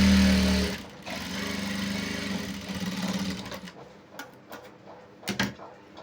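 A sewing machine stitches pant fabric in a fast, close, steady whir for under a second, then stops, followed by soft handling clicks and rustles.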